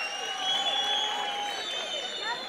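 A festival concert audience cheers and applauds the singer and her orchestra, with shrill whistles and whoops riding over a steady wash of crowd noise.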